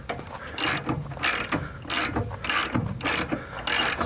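A ratchet works loose an upper control arm bolt on a 2000 Dodge Dakota 4x4, giving close, repeated clicking bursts in a regular back-and-forth rhythm, several strokes in quick succession.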